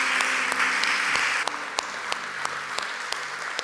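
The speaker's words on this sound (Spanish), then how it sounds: "Damos un fuerte aplauso al Señor." Congregation clapping in a church service, a dense burst of applause that thins after about a second and a half into scattered, sharper individual claps.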